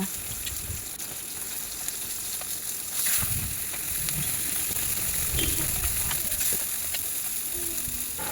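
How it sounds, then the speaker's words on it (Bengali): Steady oily sizzling of fish frying in a pan, a continuous crackling hiss that swells slightly midway, with no voices. "এক এক করে সব মাছ ভেজে নেব"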